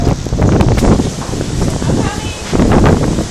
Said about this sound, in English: It's a serious windstorm.